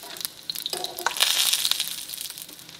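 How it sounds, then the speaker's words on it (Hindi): Chicken potato cutlets are eased one by one into hot oil for shallow frying, giving a steady hissing sizzle with small spits and crackles. "ऑयल गर्म हो गया, इसमें आहिस्ता आहिस्ता कटलेट्स रखते जाएं।"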